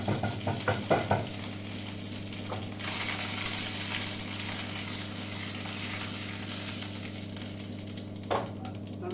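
Tempering spices splutter and crackle in hot oil for a Tamil greens kootu, a steady close sizzle with a few sharp pops early on and near the end.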